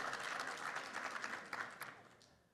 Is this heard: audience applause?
yes